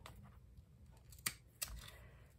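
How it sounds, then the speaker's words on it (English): Ribbon scissors trim ribbon loops on a handmade gift, giving two sharp, close snips over a quiet room background. "Even up the loops a little bit. And trim. There's my ribbon scissors here."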